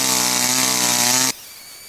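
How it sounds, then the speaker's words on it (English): A chainsaw cutting through a tree trunk on a farm snarls at a high, steady pitch, loud and close, then cuts off abruptly, leaving a quiet idle rumble. "My chainsaw bar is not long enough to go even halfway through this tree."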